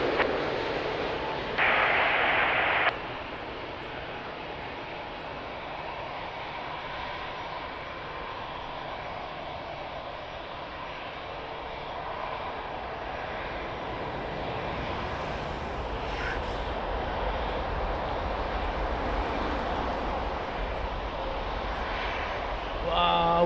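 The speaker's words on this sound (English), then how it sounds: "Wow, what a landing!" A jet airliner landing at Lisbon Airport on runway 02, heard from a spotting position as a steady, broad engine roar that swells toward the end, with brief louder bursts of noise early on.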